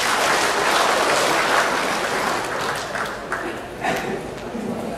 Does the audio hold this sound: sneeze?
no